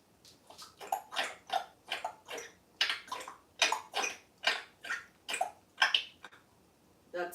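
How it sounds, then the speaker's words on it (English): Dogs lap water in a quick, regular rhythm of wet splashy slurps, close and fairly soft, with no voices. "the sound of our dogs drinking water"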